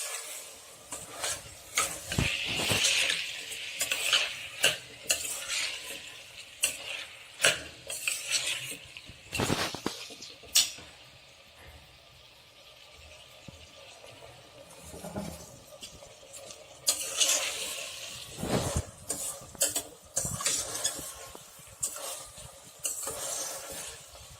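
Vegetable biryani is stirred while it fries in a pot, with busy metallic scraping and clinking in irregular bursts over a soft sizzle. A quieter pause falls midway before the scraping picks up again.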